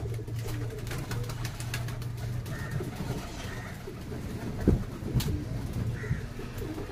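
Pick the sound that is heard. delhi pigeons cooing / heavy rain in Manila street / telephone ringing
delhi pigeons cooing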